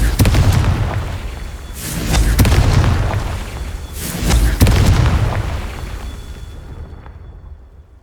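Confringo fire spell explosions in the video game Hogwarts Legacy, a loud series of deep booming blasts with sharp cracks at their onset, rolling and decaying into a fading rumble.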